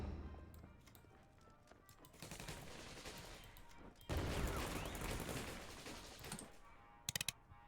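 Rifle volley sound effect from the WWII card game KARDS, a rolling crackle of gunfire that swells around the middle and ends in a few sharp bursts, alone without talk.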